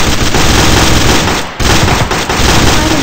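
A chain gun fires in the video game Gun Mayhem, a dense, loud, continuous rattle of rapid shots that breaks briefly near the middle and then resumes.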